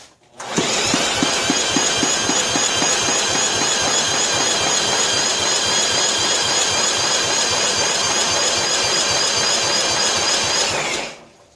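1995 John Deere STX38 lawn tractor engine being cranked at half throttle, a loud, steady whining starter churn with rapid rhythmic chugging that runs about ten seconds without catching, then stops abruptly.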